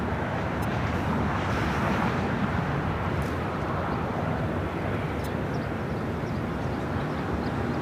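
A Porter Embraer E2 from Toronto comes in to land on the south side at LAX, its engines a steady, moderately loud broadband roar heard from a distance with no voices.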